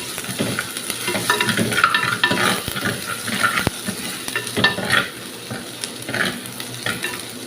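Crushed ginger and garlic fry in a pan for a Pattambi-style fish curry, giving a steady close sizzle with spoon stirring and scraping scattered throughout, no voices.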